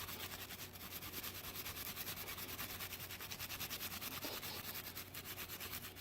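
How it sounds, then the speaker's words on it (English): A brush scrubs the grooves on the outer part of a lug with no cleaning product, making a fast, steady, rhythmic rubbing close up with even strokes throughout. "you're just going to scrub there in the grooves on the outer part"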